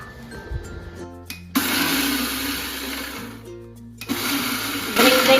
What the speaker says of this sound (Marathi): धने जिरे सोप खसखस तीळ हे थोडेसे आधी क्रश करून घेते क्रश म्हणजे जास्त बारीक नको थोडासा जाडसरच